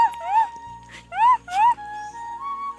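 A dog whimpers and yips in a few rising, whining bursts close by, with pauses between them and a faint low hum underneath.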